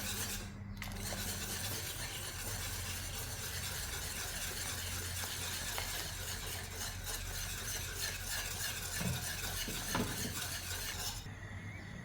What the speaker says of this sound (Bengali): অনবরত নাড়তে হবে।